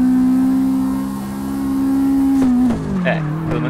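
A Honda S2000 in the CarX Drift video game holds a loud, steady engine note at high revs, then drops in pitch near the end as tires squeal briefly, close and dominant.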